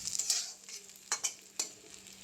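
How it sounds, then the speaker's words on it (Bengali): Onions fry in oil with a gentle, steady sizzle broken by a few quick scraping stirs and clicks, close and quiet. "এই যে পেঁয়াজগুলো ভাজা হয়ে গেছে কি সুন্দর"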